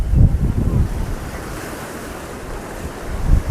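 Ocean waves crash near the Haji Ali dargah in Mumbai, with heavy surges of surf rolling in at the start and again at the end under constant wind buffeting the microphone.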